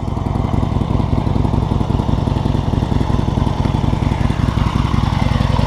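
A 2015 Harley-Davidson XL1200C Sportster 1200 Custom V-twin engine running close by, a loud, steady, lumpy idle with a rapid even throb and no voices.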